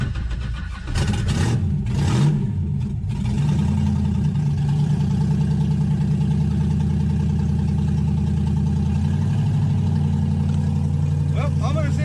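A 1970 Plymouth Superbird barn find cold-starts with a short cranking whir, catches, and settles into a loud, steady, rumbling V8 idle close by.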